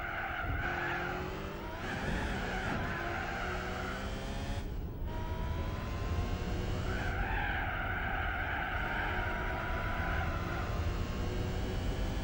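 A lightened Honda NSX lapping Laguna Seca in Gran Turismo 4, its engine howling loud and close as it rises and falls through gear changes, with tires squealing through corners and no talk.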